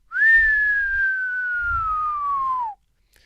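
A single long whistle from a person, mimicking a fall down a ravine: a steady high tone that glides slowly downward for about two and a half seconds, then cuts off, with faint low rumble beneath.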